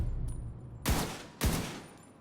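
Gunfire in The Division 2 cracks out in two sharp, loud shots about half a second apart over a low background rumble, with no voices.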